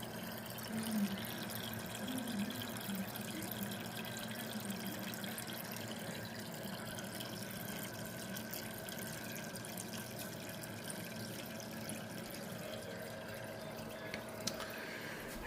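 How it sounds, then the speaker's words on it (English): A VEVOR aquarium filter refills a tank with a soft, continuous trickle and gurgle of flowing water, faint and steady throughout, with a small knock at the very end. "now it's filling up the tank"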